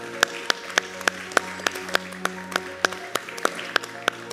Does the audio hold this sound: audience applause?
yes